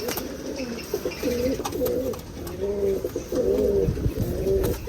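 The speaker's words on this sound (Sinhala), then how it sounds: "මේ කිරිල්ලි මේ කුරුල්ලා" Pet doves coo repeatedly in soft, rhythmic, rolling phrases, close by and unaccompanied by speech.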